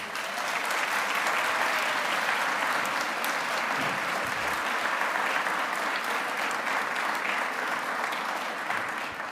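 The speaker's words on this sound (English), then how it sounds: "So let's start by giving them a huge round of applause." Audience at a school spring concert giving the students a long round of applause, a thick, even roar of many hands clapping that holds steady throughout, heard from within the hall.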